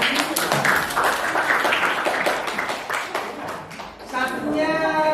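A class of middle-school students clapping together during an English lesson, a lively, fairly loud patter of many hands mixed with children's voices talking and calling out over it.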